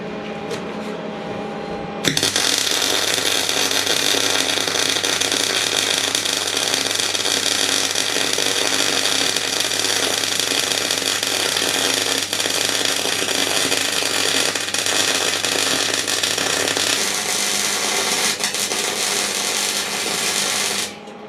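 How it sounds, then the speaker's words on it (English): Welding on a fabricated front linkage starts with a sudden burst after a short quiet lead-in, then a loud, steady, crackling buzz runs unbroken for nearly twenty seconds before cutting off. "Let's get it welded up."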